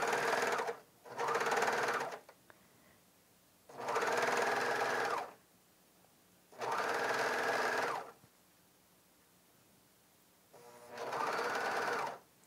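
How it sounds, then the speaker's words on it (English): Bernina 700D serger sewing piping with a multipurpose foot, running in four steady bursts of fast, even stitching hum separated by short quiet pauses, close and clear with no talking. "Just keep the edges even, and the serger will do the rest of the work for you."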